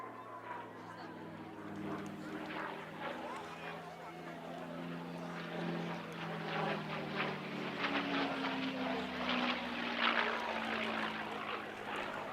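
A Mustang with an Allison V1710 engine flying at Cosford Air Show, a droning propeller engine note that slowly shifts in pitch and grows louder as the aircraft passes.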